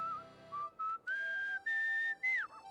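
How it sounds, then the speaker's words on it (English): A character in the video game Where the Water Tastes Like Wine whistles a clear, steady tune in several sustained phrases separated by short pauses, the last note bending downward at the end. "it's very annoying that he whistles a different music"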